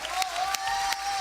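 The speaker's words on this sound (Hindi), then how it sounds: "फिर ये बैंड के लिए क्लैपिंग कर दो" A studio audience on a kids' talent show claps and cheers for the band, a short burst of dense applause with a few sharper whoops standing out.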